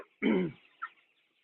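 A chicken gives a short, close cluck followed by a softer second one in an otherwise quiet space.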